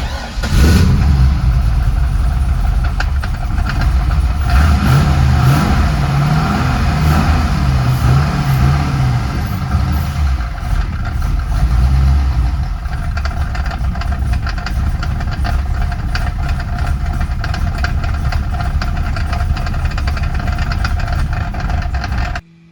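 A rebuilt Corvette C5 Z06 V8 runs loud and close at a steady idle after its first startup, a dense continuous rumble that holds throughout and cuts off sharply at the end.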